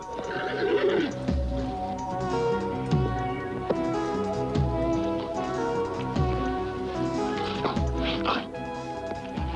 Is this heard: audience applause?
no